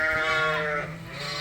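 Suffolk sheep, a curious ram among them, give one long wavering bleat close by inside a barn, rising and falling over about a second before trailing off, with no other voices.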